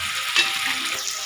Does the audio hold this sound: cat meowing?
no